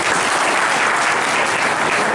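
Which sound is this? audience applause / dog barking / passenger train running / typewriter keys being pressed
audience applause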